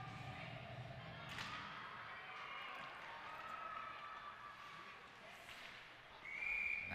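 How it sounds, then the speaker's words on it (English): A referee's whistle is blown for offside at a youth under-10 boys championship hockey game, a short shrill tone rising late over the crowd and rink noise. "That one's whistled down as an offside."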